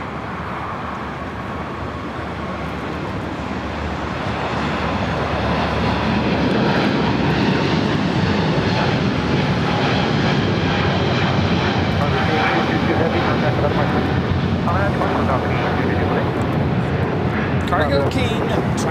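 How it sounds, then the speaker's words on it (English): China Cargo Airlines Boeing 777 freighter taking off from LAX, its jet engines swelling into a loud sustained roar that holds steady as it departs, with a voice talking over it. "China Cargo Airlines 222, taking off to Shanghai on the 777 freighter"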